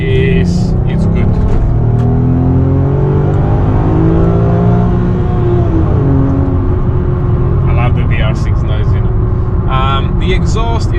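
A VW Golf R32 with a decatted straight-pipe aftermarket exhaust drones loud and close, its engine note rising and falling steadily, while someone talks over it throughout.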